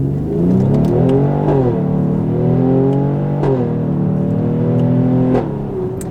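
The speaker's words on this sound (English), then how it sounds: "those pops out of that exhaust are just absolutely insane" A 2019 Mercedes GLE 43 AMG coupe SUV revs hard in manual mode and climbs through several gear shifts, loud and close, with brief exhaust crackles and pops at each change; no one speaks.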